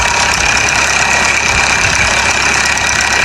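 Mahindra Arjun 605 tractor hauling two 18-foot trolleys up a sandy dune, its diesel engine droning loud and steady under heavy load throughout.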